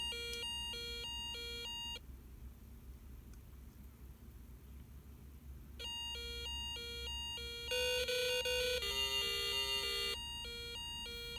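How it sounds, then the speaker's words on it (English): A European two-tone siren from a Snap Circuits Arcade electronic kit speaker, electronic alternating tones sounding in repeated bursts with a short pause, then a denser layered burst of tones. "This is a European siren."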